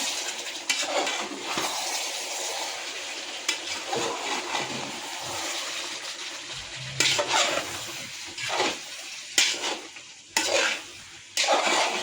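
Chicken liver masala, cooked in a large batch until the oil separates, being stirred in a pan: loud continuous sizzling with repeated scraping and clattering of the spoon against the pan, no talk.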